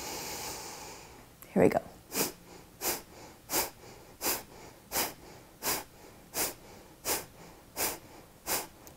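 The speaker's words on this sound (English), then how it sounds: "let's do another round of Kapalabhati. This time we'll do it a little bit more quickly." Rapid Kapalabhati yoga breathing: after a brief spoken cue and one sharp sniff, a regular train of about eleven forceful nasal exhales, evenly spaced and close, each a short breathy puff.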